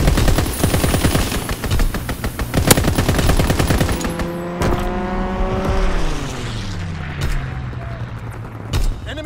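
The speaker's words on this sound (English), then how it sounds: "Strafing run inbound." Rapid aircraft strafing gunfire in a Call of Duty match, a loud, dense burst of rattling shots for several seconds, followed by a descending engine whine and rumble with scattered distant impacts.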